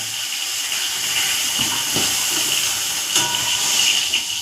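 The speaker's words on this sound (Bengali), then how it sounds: "আবার তোলার সময় তো ফট ফট করে ফাটছে" Fried fish lifted out of hot oil spits and crackles over a constant close sizzle, with a few distinct pops scattered through.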